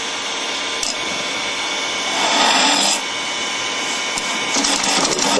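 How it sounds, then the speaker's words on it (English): A 3/8 spindle gouge hollows a wooden vase on a spinning lathe, making a continuous close scraping and shaving rasp that rises in intensity in places over the hum of the machine. "We're going to crank the speed up, and I'm just going to use my 3/8 spindle gouge."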